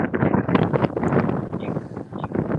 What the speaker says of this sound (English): It's a little bit windy. Sorry about that. Yes, we can hear it.